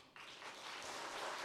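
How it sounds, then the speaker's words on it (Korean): A church congregation applauds during a Sunday worship service, a broad wash of clapping that starts abruptly and holds steady, filling the room without any voices. "박수 부탁드립니다."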